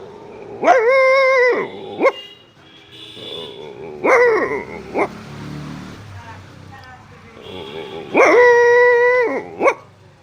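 A man imitates a dog barking on request, giving three loud, close bursts of yapping barks with pauses between them.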